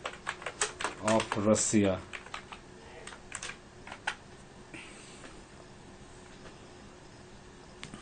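Someone types a search query on a computer keyboard, quick clusters of close key clicks mixed with a voice speaking, then sparser taps and faint clicks after the talk ends.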